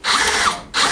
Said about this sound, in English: I'm now going to drill it from this side so I don't split the wood